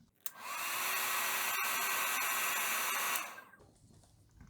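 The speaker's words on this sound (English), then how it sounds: "I hit it with my hair dryer real quick" A hair dryer switches on and blows with a loud, steady whoosh for about three seconds, then cuts off.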